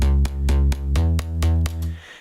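Layered synth basses in FL Studio pulse in a rhythmic pattern of about eight deep, heavy notes with short gaps between them, loud and full, ending on a quick fade with no voices.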